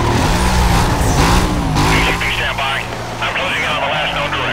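A silver Audi races from police in the video game Need for Speed Most Wanted, its engine roaring loudly and continuously beneath radio-style voices talking.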